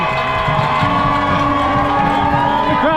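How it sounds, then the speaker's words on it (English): Loud crowd of spectators cheering and shouting continuously along the Boston Marathon course, close and dense, with whoops rising over the steady roar. "The crowds are so loud."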